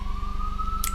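A siren holds a steady electronic tone on a New York street, loud and unbroken over a low rumble of traffic, with a brief click near the end and no talk.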